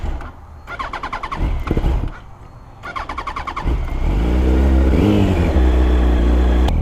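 A lowered, lightly modified Yamaha R1 sport motorcycle starts up and revs. A choppy, pulsing engine note gives way to a loud, sustained rev that rises and falls near the listener.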